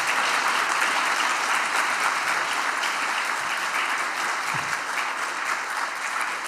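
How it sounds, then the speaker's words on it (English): An audience at a Julia programming language conference applauds a contributor, producing a dense, steady wash of clapping at moderate loudness that continues evenly throughout. "everyone give Torkel a round of applause"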